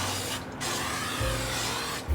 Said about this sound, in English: Get the butter spray. Just spray a little bit on top of it.